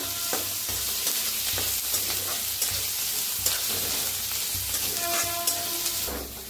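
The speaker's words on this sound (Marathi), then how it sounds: "ते बी असं भाजून घेऊया छान असं। त्याला भाजून घेऊया।" Chillies, crushed garlic and peanuts dry-roasting in a pan, making a loud, steady sizzle and hiss up close, with the occasional scrape of stirring.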